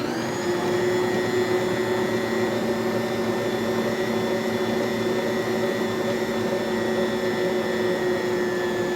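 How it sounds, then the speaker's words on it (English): A stand mixer fitted with a dough hook works bagel dough, giving a steady, loud motor whir with a constant pitch that carries on unbroken throughout, with no voices. "you can use any type of mixer you have as long as it has a dough hook"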